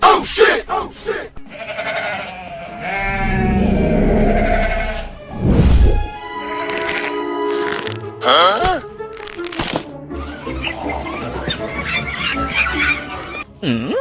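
Goats bleating in a loud, dramatic cartoon-style scene, with long wavering bleats and cries laid over a sustained musical or effects background that rises and falls.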